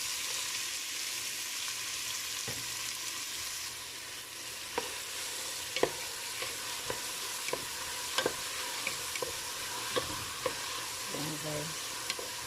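Onion sautéing in cooking oil gives a steady sizzle with sharp clicks and taps from a utensil against the pan scattered throughout.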